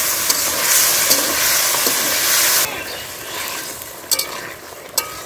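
Washed fish goes into a frying pan of garlic, cumin and salt, bringing a loud, broad sizzle that drops to a quieter steady fry partway through, with a few sharp clatters of stirring.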